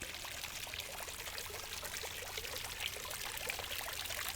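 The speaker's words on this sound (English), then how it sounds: "Turn on the fountain first." A garden fountain splashes and pours water steadily at close range, a continuous broadband rush with fine droplet detail and no talking.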